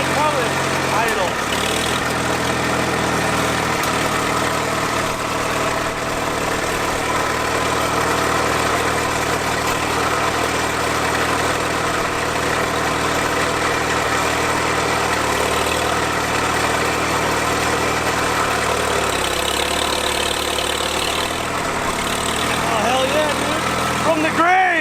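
An old abandoned tractor, unmoved for 20 years, running steadily at a loud, close idle with a continuous low rumble and vibration that shifts slightly as it drives, with people talking over it.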